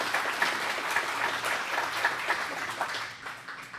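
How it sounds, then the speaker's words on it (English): Applause from an audience at a history lecture on Firebase Ripcord and the USS Silversides, a steady dense patter of clapping lasting several seconds at moderate loudness, with no talk over it. "Let's give Catlin a round of applause for coming all this way."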